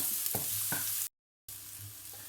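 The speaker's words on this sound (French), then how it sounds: "Et là je fais bien revenir, je mélange régulièrement pour pas que ça brûle." Onions sizzle in a frying pan as they are stirred, with a few scraping strokes of the spoon over a steady frying hiss, briefly cut to silence midway.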